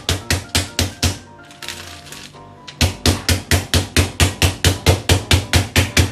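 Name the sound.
meat mallet pounding pork chop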